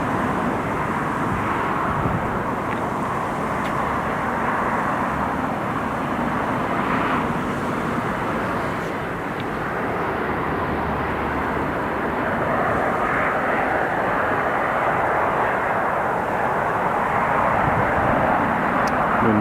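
A Diamond DA62 twin-engine light aircraft flies near Newcastle International Airport, its steady propeller drone loud and continuous throughout with a slight swell toward the end.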